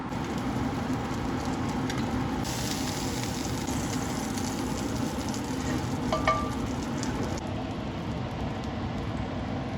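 Eggs fry in leftover butter used to baste steaks, a steady close sizzle with crackling spits and a few utensil scrapes across the pan, no talking.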